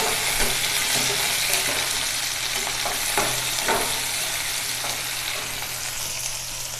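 Pre-cooked eggplant pieces sautéing in oil, a dense, continuous sizzle close up with a few faint knocks of a stirring spoon against the pan.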